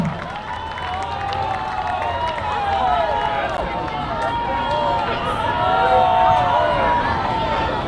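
A crowd at the 'Onipa'a Peace March 2024 claps and cheers in a broad, steady wash of applause that swells slightly toward the end, with scattered voices and chatter mixed in.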